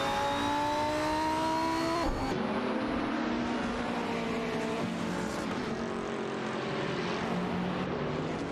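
An Aston Martin Vantage GT3 and a McLaren MP4-12C GT3 racing in a sim-racing game, loud sustained engine whine with shifting pitch, then a dense roar of several cars passing together.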